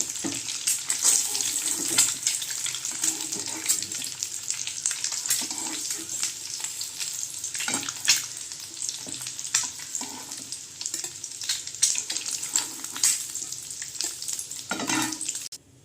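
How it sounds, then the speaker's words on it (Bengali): Eggs fry in a kadai for a Bengali steamed-egg dish. A steady sizzle and crackle of oil runs close and fairly loud throughout, with scattered sharper pops and occasional spatula scrapes. "উল্টো পাশটাও আমি হালকা করে একটু ফ্রাই করে নেব"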